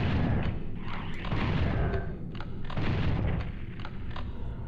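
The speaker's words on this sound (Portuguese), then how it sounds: "Tacaram um tiro de plasma." Heavy blasts from a plasma gun in Final Doom on PlayStation, several deep booming bursts in quick succession with a continuous rumbling roar between them.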